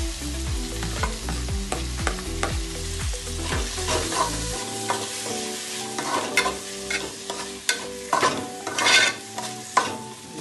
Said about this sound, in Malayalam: ഇനി നമുക്ക് അതിലേക്ക് തക്കാളി ഇട്ട് കൊടുക്കാം. തക്കാളിയും കൂടി ഒന്ന് വാട്ടിയെടുക്കണം കേട്ടോ.